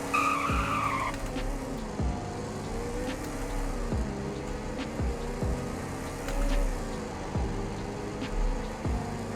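A police car braking in the Roblox game Greenville, with a brief tire squeal at the start and then a continuous low engine and road rumble. Repeated thumps run through it, with no talk.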